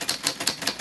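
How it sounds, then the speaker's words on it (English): Vintage typewriter typed at a steady pace, four crisp keystrikes spaced about a fifth of a second apart, close and clear with no voices. "We're typing everybody's names on this vintage typewriter."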